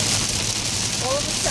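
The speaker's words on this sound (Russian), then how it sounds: "О, дождик капает." A sudden light rain falls on a New York street in the USA, a steady soft hiss of drops on surfaces, close and continuous throughout.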